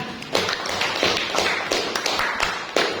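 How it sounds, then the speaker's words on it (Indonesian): A small classroom group claps for a student team, a few scattered hand claps at close range forming a loose, uneven rhythm. "berikan aplaus untuk kelompok 3"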